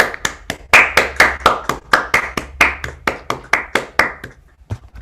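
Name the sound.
audience applause after a talk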